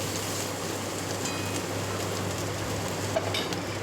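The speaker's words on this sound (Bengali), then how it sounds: "আদাটা দিয়ে একটু ভালো করে নাড়াচাড়া করে নেব" Ginger and spices are stirred in a frying pan of hot oil for a soybean chunk curry, making an even, soft sizzle with light scraping that holds steady throughout.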